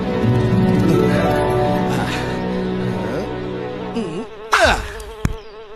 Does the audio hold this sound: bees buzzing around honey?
yes